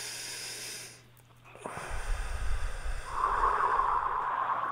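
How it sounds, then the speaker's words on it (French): Deep, audible breaths from a group doing a guided breathing exercise: a long hissing inhale swells, then a sustained, rushing exhale with a wheezy edge fills the room. "on va faire une respiration"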